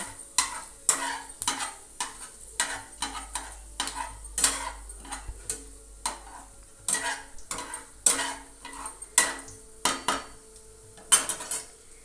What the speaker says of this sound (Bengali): এইবার কেটে রাখা সবজিগুলো আমি একসঙ্গেই দিয়ে দিলাম কুমড়ো বেগুন এবং আলু সবজিগুলোকে ভালো করে ভেজে নেব